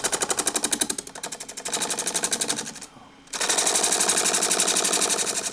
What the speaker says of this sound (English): just get these round using a 1/2-inch spindle gouge